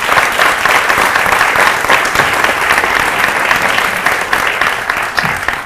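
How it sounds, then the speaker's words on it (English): A community forum audience applauds a young man from a youth group, a loud, continuous wash of clapping that holds steady throughout with no speech over it. "If you could give him applause for being with us and working with us"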